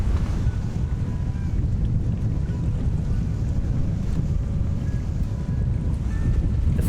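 A Lagoon 440 catamaran sailing at sea in 14 knots of wind between Sardinia and Tunisia gives a constant, close rush of wind and water with a low rumble, steady throughout and with no talking.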